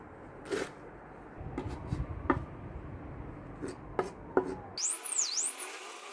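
A knife chopping rolled leafy greens on a board for Zimbabwean muriwo, a few quiet, irregular cuts and rubbing strokes, close and faint, ending in a brief high-pitched tone.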